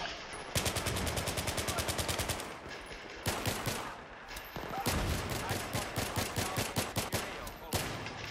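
Rapid automatic gunfire from an UMP 45 in a video game rattles in long, loud bursts broken by short pauses, with sustained fusillades dominating the mix.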